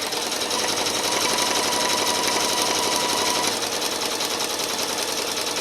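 A sewing machine stitches a zigzag appliqué on a Valentine table runner, its needle running in a fast, steady mechanical chatter up close without pause.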